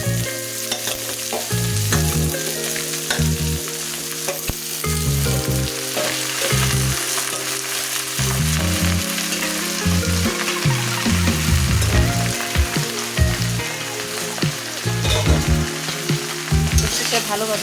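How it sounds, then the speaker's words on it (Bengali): Vegetables stir-fry in a new wok with loud, continuous sizzling, while a utensil repeatedly scrapes and turns them in an uneven rhythm, close up and with no talking. "সবজিটা ভালোভাবে নাড়াচাড়া করে নিই।"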